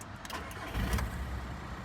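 A 2003 Volkswagen Touran engine cranks and catches, rising into a rough rumble at close range, then settling into an idle.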